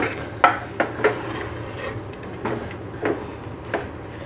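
Chicken thoran with curry leaves, coriander and mint is stirred in a pan, with a handful of sharp scraping clicks at an uneven rhythm and quieter rustling between them.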